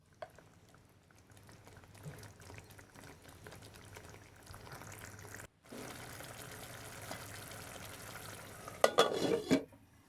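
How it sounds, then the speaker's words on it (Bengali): Chicken curry masala being stirred in a pan, a soft scraping stir over a steady low simmer, growing louder and busier toward the end with a few sharper clanks, no voices. "ভালো করে নেড়েচেড়ে সুন্দর করে মিশিয়ে নিব সব কিছু একসাথে"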